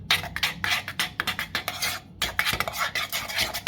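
Mango purée and agar-agar stirred cold in a pot: a run of quick scraping, clinking utensil strokes against the pan, steady and close, with a short pause midway and no voices.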